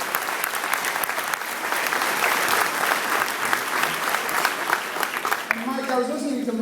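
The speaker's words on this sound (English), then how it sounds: "So give them all a round of applause," Sustained applause from an audience at a public event honoring officials, loud and continuous, with a voice starting to speak as the clapping fades at the end.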